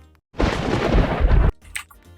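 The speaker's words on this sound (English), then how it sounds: "pineapple explosion." A sound-effect explosion for a pineapple in Super Mario Sunshine: a sudden loud, rumbling blast lasting about a second, cutting off abruptly, followed by faint chatter.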